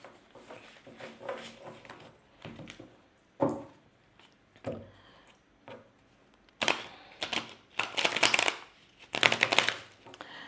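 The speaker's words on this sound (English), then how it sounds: "Don't mind my shuffling, I'm still learning to shuffle well" Soft riffling and slapping of tarot cards being shuffled in irregular bursts, close by, growing louder and choppier toward the end.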